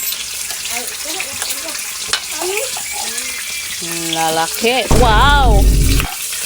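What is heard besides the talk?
fish frying in hot cooking oil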